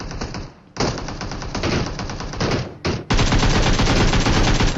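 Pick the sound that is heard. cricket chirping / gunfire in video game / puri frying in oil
gunfire in video game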